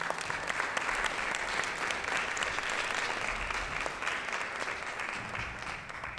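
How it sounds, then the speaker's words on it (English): An audience at a business conference claps steadily and warmly, a dense wash of applause that holds for several seconds before thinning slightly at the end. "So please, a warm round of applause for Amy Igawanu."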